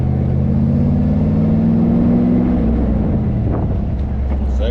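An Austin Healey 3000 V8 drives along the road, its engine droning loudly and climbing in pitch under acceleration before easing off, with wind buffeting throughout.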